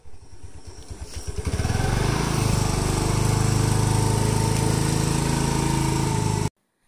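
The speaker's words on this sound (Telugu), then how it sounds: "సో అక్క ఇక్కడ బైక్ డ్రైవ్ చేస్తుంది." A Honda Activa scooter engine putters close by, rising from a rough idle into a steady, loud drone as it rides off, with no talk over it until the sound cuts out abruptly.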